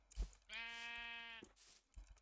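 A Minecraft sheep lets out a single clear, sustained bleat of about a second, standing alone between brief soft game noises.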